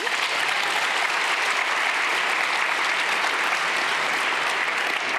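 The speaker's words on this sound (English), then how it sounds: "Big applause." A conference crowd at a Python lightning-talk session gives a big round of applause as the next speaker takes the stage, thick continuous clapping at a steady high level from start to finish.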